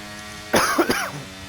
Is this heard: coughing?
yes